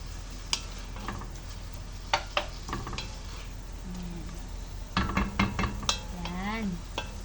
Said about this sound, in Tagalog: Lulutuin ko lang yung bacon.